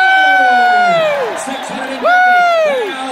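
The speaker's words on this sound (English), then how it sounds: "give him a round of applause" A loud, high whoop rises over an auction crowd as a Bronco sells, then a second whooping shout follows; cheering voices fill the background.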